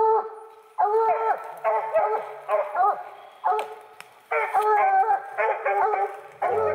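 Several coon hunting dogs raised for competition hunts bark and howl in repeated bursts, loud and fairly close, with pauses between bays and no talk.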